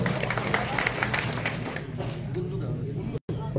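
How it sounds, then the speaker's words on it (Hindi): Crowd at a BJP rally in Kalayat applauding to welcome guests, a steady mass of clapping with crowd murmur, fairly distant and moderate in level, briefly cutting out near the end. "इन सभी का जोरदार एक बार तालियों से स्वागत करते हुए सारे"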